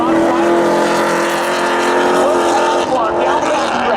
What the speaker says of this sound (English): give the quick jump and advantage to Nathan Williams in the Subaru WRX